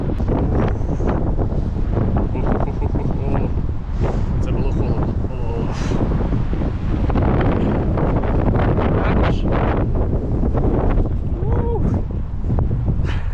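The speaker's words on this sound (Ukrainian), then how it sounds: "щоб ви розуміли, який вітер" Strong, cold outdoor wind buffets the microphone in Canada, a loud, continuous roaring rumble with gusty bursts, while a person keeps talking over it.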